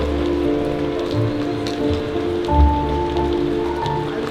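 Rain falls steadily in an urban neighbourhood in Qatar in December, a continuous close patter with a couple of heavier surges, under a low steady hum and no talk.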